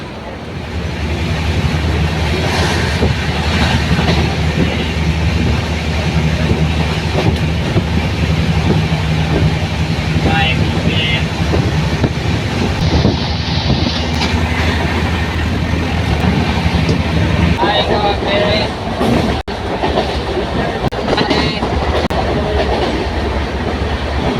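A train runs on rails with a loud, steady rumble and rhythmic clatter of wheels that continues for the whole stretch, with faint voices now and then under the noise.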